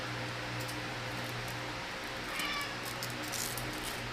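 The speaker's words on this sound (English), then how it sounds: "meow" A cat meows a couple of times, faint and brief, over a steady low hum of a room fan.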